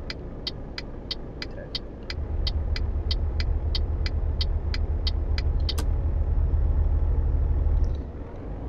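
A truck engine in a truck simulator game drones steadily in twelfth gear and grows louder partway through, while a regular ticking like a turn signal repeats for several seconds and then stops.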